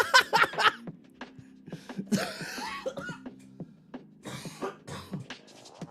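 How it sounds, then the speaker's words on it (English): One person laughs and coughs together in rough, breathy bursts, the chuckles breaking into throat-clearing coughs, close to the mic, with some faint talk mixed in. "I can't laugh without coughing a lung up."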